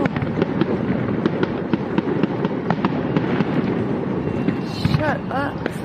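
Fireworks bursting by a riverside, a continuous barrage of crackling pops and booming explosions, loud and close, with excited voices talking and shouting over them.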